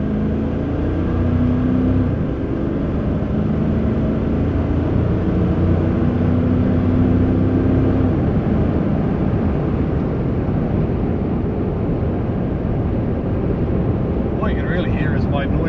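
Cabin drone of a Toyota Landcruiser 200 Series with a PPD performance exhaust cruising at 110 km/h on the highway, a loud steady low engine and road roar with tyre noise throughout, unbroken from start to finish.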